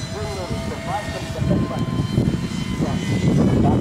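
A small engine and propeller buzz from an RC paramotor in flight, a wavering drone that rises and falls in pitch. People talk over it nearby.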